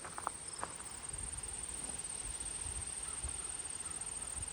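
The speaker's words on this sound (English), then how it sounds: "Yeah, grasshoppers and crickets. There are so many." Crickets and grasshoppers chirp in a garden as a faint, continuous high-pitched trill, with a few soft knocks and rustles near the start.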